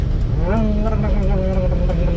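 A two-stroke Suzuki Jimny off-road engine idles close by with a buzzing, slightly uneven drone, rising briefly in pitch before settling back to a steady run.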